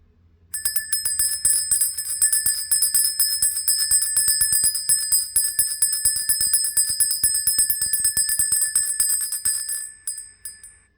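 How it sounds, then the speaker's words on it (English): A bright, clear bell rings in rapid repeated strikes for about ten seconds, each tone ringing on steadily before it stops and fades. "Just like this bell."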